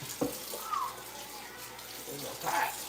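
Hot tap water running into a sink while dishes are washed, a steady hissing flow with small splashes and clinks, fairly close, with a voice talking over it.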